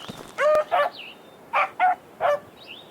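A hunting dog in the game Hunting Simulator 2 barks in two quick pairs and then once more, sharp and close, with bird chirps in the background and no speech.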